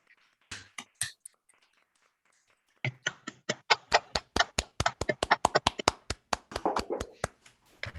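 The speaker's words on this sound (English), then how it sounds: "We may unmute now and clap" Scattered claps from an online audience after a lecture on algorithms for Hermitian lattices, a few isolated hand claps first, then a denser burst of sharp, close claps from several people that thins out toward the end.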